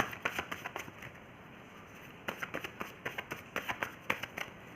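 Tarot cards are riffled and flicked near the listener in two quick runs of sharp, rhythmic snaps separated by a short pause, quiet overall with no talking over them.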